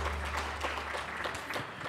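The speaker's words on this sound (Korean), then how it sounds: "큰 박수로 환영해 주시기 바랍니다" A fairly faint round of audience clapping at a Korea-US advanced industry technology cooperation forum welcomes a speaker, scattered claps over a low steady hum in a large room.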